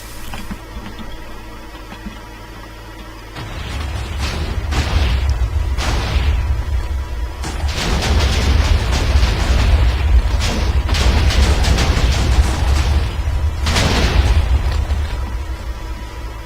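TNT explosions in the video game Minecraft, a string of deep rumbling booms that builds from a quieter start into overlapping blasts and sharp pops, loud and continuous for many seconds.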